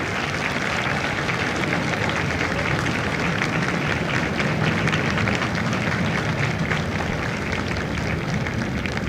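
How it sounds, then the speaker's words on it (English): Steady, loud applause from a large audience at a Marine Corps recruit graduation ceremony at MCRD San Diego, a dense wash of clapping that holds evenly for the full stretch without pauses. "Ladies and gentlemen, a round of applause for their dedicated service to Corps and country."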